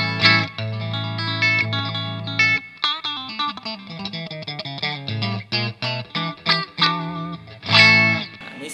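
A thin, nasal out-of-phase pickup tone from an electric guitar with Tom Holmes 455/450 pickups plays short chords and picked notes with small pauses between phrases, moderately loud, no voices.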